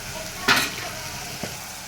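Tomatoes softened in a pan are stirred with chili powder, a steady low sizzle running throughout with one loud scrape near the start and a lighter one later.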